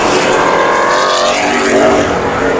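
Street stock race cars roar around the oval at Havasu 95 Speedway, a dense, steady blend of engine noise from several cars close together, loud throughout with no pauses.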